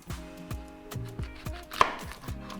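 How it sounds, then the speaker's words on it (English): Onion being sliced on a cutting board for goat meat pepper soup: sharp knife knocks falling in a steady rhythm, roughly two per second, close and clear with no talk. "Yeah, I'll be slicing onion into it too."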